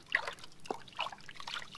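Water trickles and drips softly at a village well as a girl bends over to wash, a quiet, uneven patter of small splashes with no voices.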